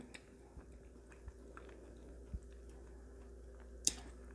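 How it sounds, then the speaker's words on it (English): Someone eating vegan lasagna with cashew cheese and heart of palm pasta sheets, soft quiet chewing with a few faint clicks and squishes, close and alone. "I'm gonna go ahead and eat some more."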